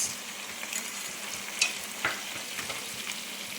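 Chicken fries in oil with ginger paste, Telangana style, a close, steady sizzle and crackle with a couple of faint spoon taps and stirs and no talking.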